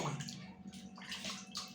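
Warm bath water splashes and sloshes softly near a baby being bathed with soap, faint gurgling and swishing bursts in quiet surroundings.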